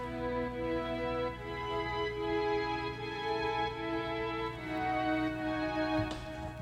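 Soft sustained string chords drift in a mellow, quiet layered texture in a lofi beat, with a light tick near the end.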